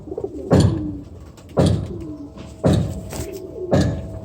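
A slate and blue-tailed pet pigeon coos up close, four deep, swelling calls at roughly one-second intervals, each fading with a soft trailing note.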